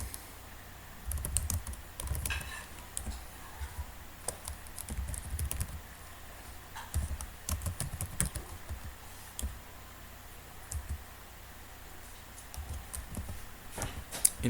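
Code is typed on a computer keyboard in irregular bursts of quick, close keystroke clicks, with short pauses between runs of typing.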